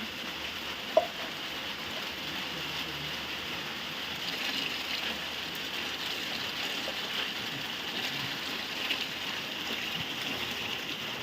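Steady rain from a storm falls on a small rural hut through the night, a continuous soft hiss with one brief sharp click near the start and no talk.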